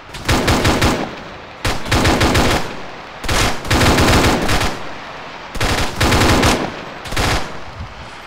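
Automatic gunfire in a military video game comes in loud, close bursts of rapid shots, five or six volleys separated by short pauses.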